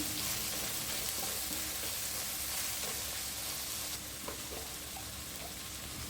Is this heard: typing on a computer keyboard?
no